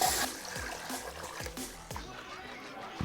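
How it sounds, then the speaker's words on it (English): Water is poured into a pot of beef broth for beef stroganoff, a brief splashing rush at first that settles into a softer, steady trickle over a faint rhythmic background beat. "Then we're gonna add the same amount of water."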